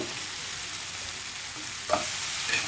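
Cut bitter gourd pieces go into a hot pan of cooked onion and tomato, giving a continuous close sizzle with a couple of brief clatters near the end.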